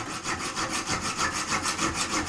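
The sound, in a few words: junior hacksaw sawing copper pipe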